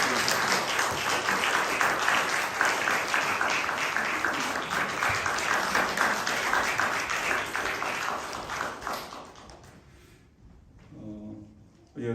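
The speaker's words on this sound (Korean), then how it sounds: "한번 박수로 축하해 주시고" A church congregation applauds through a New Year thanksgiving Sunday service, the dense clapping steady and full for about nine seconds before fading, with a voice speaking faintly near the end.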